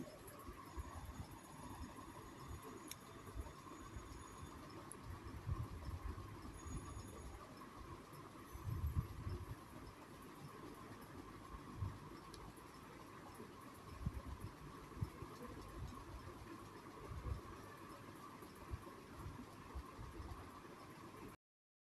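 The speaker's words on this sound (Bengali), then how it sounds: "এই যে উপর দিয়ে ট্রেন যায়" A train passes overhead on an elevated line near a temple in Khidirpur, Kolkata, giving a faint, distant, continuous rumble with a steady hiss that swells slightly midway.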